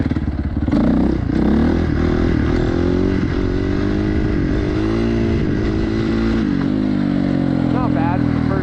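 A motorcycle engine with a low idle runs loud and close, its steady throbbing punctuated by swelling revs and some clatter, with a person talking over it throughout.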